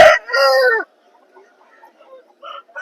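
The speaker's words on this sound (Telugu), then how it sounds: "చాలా యాక్టివ్గా ఉన్నటువంటి కోడిపుంజు" A rooster at a Vijayawada poultry market lets out one loud, close crow that breaks off abruptly, followed by faint scattered clucks and other bird calls nearby.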